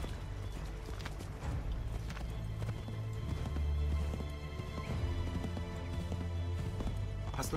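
A horse gallops in Assassin's Creed 3, its hooves clip-clopping in a rapid, steady rhythm throughout, close and prominent over a low game ambience.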